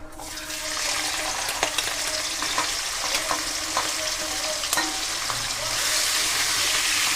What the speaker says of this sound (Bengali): এবার এই তেলে আমি চিংড়ি মাছগুলোও ভেজে নেবো